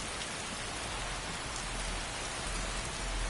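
Continuous rainfall in the Skyrim video game, a dense, even hiss of drops on surfaces with no breaks, thunder or voices.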